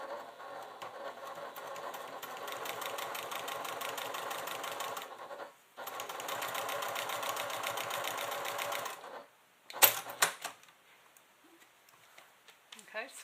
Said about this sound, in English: we're going to top stitch because we want to hold that in place